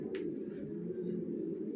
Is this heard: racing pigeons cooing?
yes